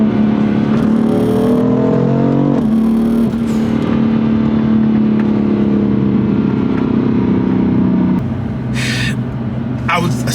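A powerful BMW M4 roars and revs up, its pitch climbing as it accelerates past, loud and close throughout.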